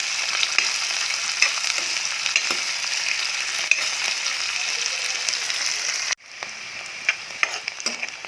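Onions sizzle steadily in hot oil in a pan along with bay leaves while a chicken curry is being made, a continuous frying hiss with a few clicks. It breaks briefly near the end and then carries on a little quieter.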